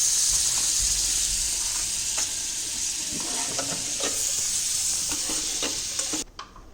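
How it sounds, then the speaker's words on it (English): About two spoons of butter sizzle in a pan for white sauce pasta, giving a steady close hiss with light stirring clicks before the sound cuts off abruptly near the end. "Now we need to add some butter. It's around 2 spoon of butter."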